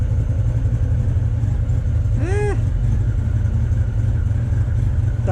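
A motorcycle engine idles steadily at a raised, strong idle just after its carburetors are synchronized with gauges, with a constant low rumble throughout and a brief whistling chirp partway through.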